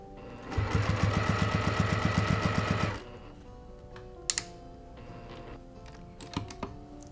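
A sewing machine stitches bias binding onto a quilt in a fast, rhythmic burst of needle strokes lasting a couple of seconds, then stops, leaving quiet fabric handling and a few soft knocks.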